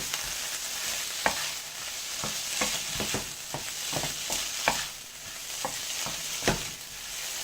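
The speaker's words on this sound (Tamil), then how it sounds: "இப்போ இதோட நம்ம வேக வச்சிருக்க அந்த பிரானை வந்து இதோட சேர்த்துக்கலாம். சேர்த்து நல்லா கலந்துக்கோங்க." Boiled prawns are stirred into frying onions in a pan, a steady sizzle broken by repeated sharp scraping strokes of the spoon, close and fairly quiet, with no voices.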